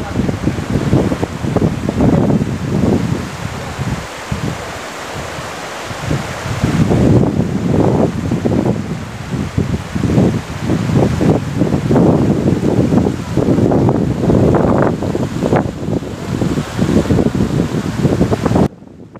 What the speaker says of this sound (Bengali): নদীর সাউন্ডটা শুধু দেখো।